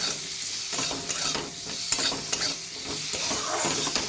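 Fish curry seasoned with a little turmeric is stirred in a pan, a steady close scraping and shuffling over a constant sizzle with no voices.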